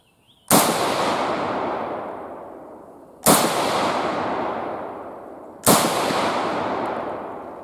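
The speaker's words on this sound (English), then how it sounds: "We're just going to have to keep on shooting a couple rounds and see what that issue was from." Three sharp, loud rifle shots from a Romanian PSL fired at a range, evenly spaced about two and a half seconds apart, each with a long echoing decay and no talking between them.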